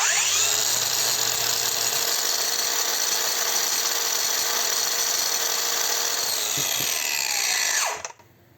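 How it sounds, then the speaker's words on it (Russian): A DEVETECH AG-560W angle grinder runs at a loud, steady high whine for about eight seconds, then its electronic brake stops the disc abruptly and the sound drops away almost at once. "когда я выключу болгарку, обращайте особое внимание на работу болгарки"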